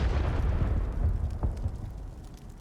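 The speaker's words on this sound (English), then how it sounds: "So let's just go ahead and type explosion and press enter." Video game explosion in Sword Hero: a deep rumbling blast that rolls on with a sharper pop partway through, then fades into a lingering low tail.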